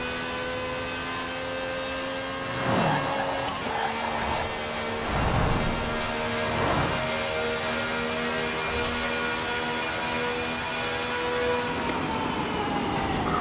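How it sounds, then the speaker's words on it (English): A racing car engine in Forza Horizon 4 drones steadily with layered whining tones, surging in a few revs early on, loud and continuous throughout. "Crazy sounding engine."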